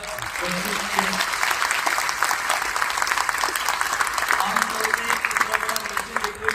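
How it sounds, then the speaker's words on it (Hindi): An audience at an RCM gathering in Noida, many women among them, breaks into loud sustained applause, a dense continuous wash of clapping that carries on throughout with a few voices mixed in. "एक बार इनके लिए जोरदार तालियां।"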